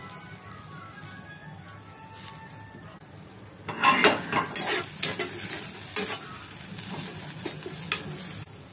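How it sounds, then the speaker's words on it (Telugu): Beans and cabbage pieces dry-fried in a pan, being stirred with a utensil: soft scraping and faint sizzle build into louder clattering stirs partway through, with clinks of the pan, close and with no talk. "జస్ట్ దాంట్లోనే డ్రైగానే వేపుతున్నాను"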